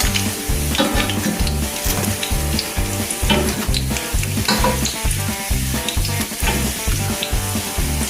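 Dumplings and salmon frying in hot oil: a loud, steady crackling sizzle runs throughout, with a regular low thumping pulse beneath it and no voices.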